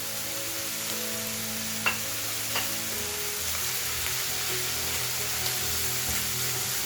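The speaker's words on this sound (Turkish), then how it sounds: "Bu şekilde Bir 5-6 dakikada böyle kavuruyoruz" Mushrooms and chicken sautéing on a sac pan give a soft, steady sizzle over a low background hum, with a couple of faint utensil taps, no talking.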